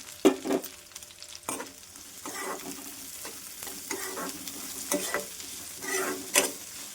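Onions and curry leaves frying in oil in a pan, stirred now and then: a bright continuous sizzle with irregular louder bursts and scraping strokes as the spoon moves, close and without talk.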